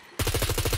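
An explosion in the zombie survival game SCUM hits suddenly and is followed by a loud, rapid, pulsing rumble that lasts under a second, with no talking.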